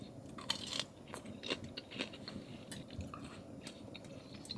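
Crispy bacon cooked at a hot-tent campsite is bitten and chewed up close, with a loud first crunch followed by a series of quieter crackly chews and no talking.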